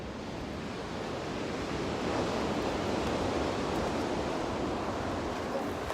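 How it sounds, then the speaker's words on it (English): Huge ocean waves near Goat Rock roar steadily onto the shore, a loud, continuous surf wash mixed with wind buffeting the microphone, with no voices. "these waves are huge"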